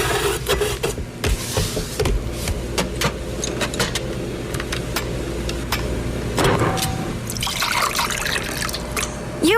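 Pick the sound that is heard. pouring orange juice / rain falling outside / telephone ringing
pouring orange juice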